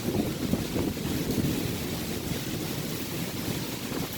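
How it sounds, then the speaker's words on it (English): Strong, steady wind roars during a severe storm with gusts near 50 mph, a continuous broadband rush that stays loud and close throughout with no speech over it. "50 mile an hour wind, you think?"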